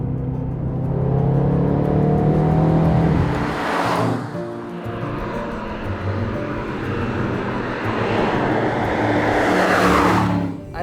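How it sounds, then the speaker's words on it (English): The V8 engine of a 2024 Aston Martin Vantage drones loudly and continuously while driving, its pitch rising and falling with throttle, with rushing swells of road and wind noise. "Lovely V8 soundtrack accompanying it at all times."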